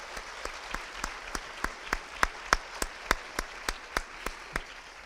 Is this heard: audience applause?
yes